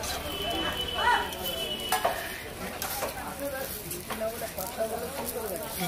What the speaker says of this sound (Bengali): রোলের পাট্টাগুলো প্রথমে ভেজে নিচ্ছে তেল দিয়ে